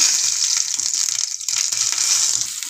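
Cumin and mustard seeds crackle and pop in hot oil, a dense, steady sizzling hiss with scattered sharp pops, close and fairly loud, with no voices.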